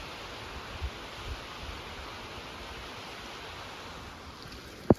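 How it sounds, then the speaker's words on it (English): A small waterfall on a mountain backpacking route in Yoho, along the Iceline trail, makes a steady, soft rushing hiss from a distance, with a couple of faint knocks nearby. "More little bonus waterfalls."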